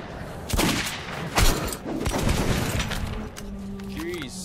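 Gunfire in Metro 2033 Redux on Ranger Hardcore mode, a few loud sharp shots and bursts cracking over a dense, noisy game backdrop, with voices talking at moments.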